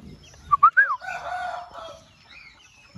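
Balão GSB chicks and young roosters being raised on a farm make a few close, bright cheeps and clucks in a short burst, then a softer murmur.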